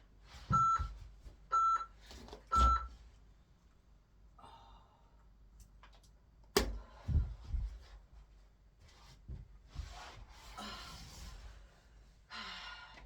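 A workout timer sounds three short, evenly spaced beeps, followed by breathing, soft movement and a few thumps during a beginner plyometrics home exercise session.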